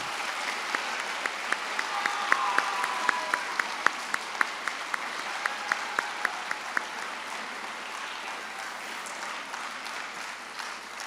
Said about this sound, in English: Can we please, round of applause.